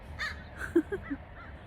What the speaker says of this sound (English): the crows have something to say about it